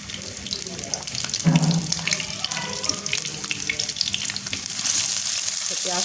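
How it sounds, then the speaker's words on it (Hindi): Onion hitting hot ghee in a pan for dal, a bright sizzling hiss that rises and holds steady, with clinks and stirring sounds mixed in. "वो हम घी डालेंगे और इसमें हम डालेंगे 1 अदद प्याज।"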